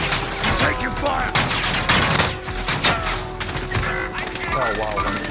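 Dense automatic gunfire rattles continuously in a tactical shooter video game, loud bursts overlapping with booms while players talk over the fighting.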